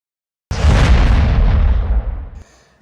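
A single loud firecracker burst at a fans' celebration in Puducherry, an abrupt deep boom followed by about two seconds of rumbling roll-off, then near silence.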